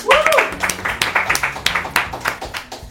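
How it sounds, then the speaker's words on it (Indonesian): A small studio audience on the quiz show Papinter-pinter claps for team B, a quick run of sharp, close hand claps mixed with voices and whoops. "Oke, itu dia tim B, boleh tepuk tangan."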